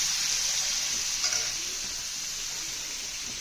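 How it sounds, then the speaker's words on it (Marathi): Chicken pieces fry in hot oil in a pan, giving a loud, continuous crackling sizzle that eases slightly toward the end, with no talking. "तर आता मी फ्राय करून घेणार आहे असं"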